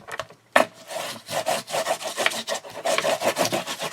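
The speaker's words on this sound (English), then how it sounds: "Let's flip it over and give it a good burnish." Paper being burnished by hand after being flipped over, lined up for a postage stamp organizer: a steady run of close dry rubbing strokes, each a soft scraping swish, repeated in an uneven rhythm with no talking.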